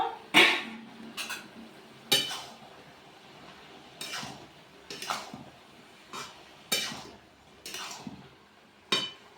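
A metal pot lid comes off a simmering pot of bottle gourd and chana dal, with a series of sharp metallic clanks and clinks spaced about a second apart, fairly close and clear.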